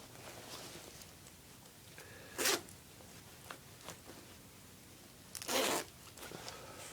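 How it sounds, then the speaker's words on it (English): Zippers on a British army DPM camouflage jacket pocket are pulled open, two quick distinct rasping zips a few seconds apart with faint fabric handling and soft clicks between them in a quiet room. "We have double zippers."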